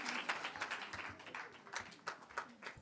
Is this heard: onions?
no